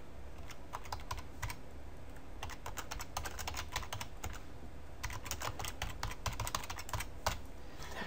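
Text is typed on a computer keyboard in quick irregular bursts of close, crisp key clicks with short pauses between, and no talking.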